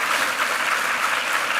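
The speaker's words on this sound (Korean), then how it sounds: "한번 힘찬 격려 박수 한번 부탁하겠습니다" Steady, dense applause from a church congregation during a Sunday worship service, filling the room evenly without letup and with no voices standing out.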